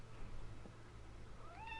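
A house cat meows once near the end, a short rising call heard alone over a steady low hum of room noise in a home at night.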